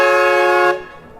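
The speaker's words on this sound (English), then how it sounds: "got rid of the old nasty rusty horn in there and got ourselves a train horn kit" A loud, sustained train horn blares from a horn kit fitted to a rusty vehicle in a video game, holding steady before cutting off abruptly, close and alone.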